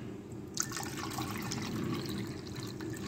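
Water is poured into tamarind pulp in a kitchen, a soft, steady trickle and splash heard faintly and close with no talk.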